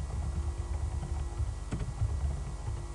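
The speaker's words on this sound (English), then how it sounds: "we want to type in a username here" Keys tapped on a computer keyboard as a username is entered into a Visual Basic 2008 application, soft scattered clicks over a steady background hum, heard alone.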